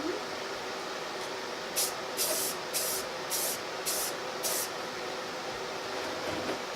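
Short bursts of spray applying an oil finish to a piece of wood, about six even blasts in a row following a faint opening hiss, set against steady background noise with no talk.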